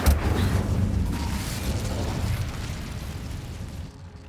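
A fiery Incendio spell cast in Hogwarts Legacy, a loud, dense roaring blast that fills the first seconds and then slowly tapers into a rumbling tail.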